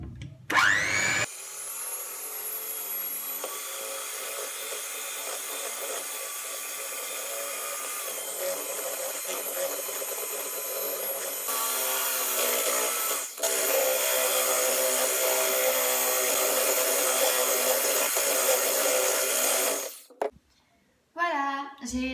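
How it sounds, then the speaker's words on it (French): An electric mixer whirs steadily through crêpe batter of flour, milk and butter, a loud, continuous motor whine that shifts pitch slightly partway through, then cuts off abruptly near the end. "Je commence à mélanger."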